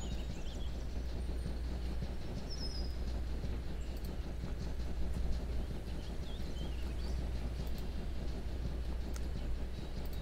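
A train rolling on rails inside a video game, a continuous low rumble with faint rhythmic wheel clatter and occasional high squeals, steady and unbroken throughout.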